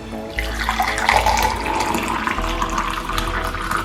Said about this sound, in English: So this is my cup and I'll add hot water.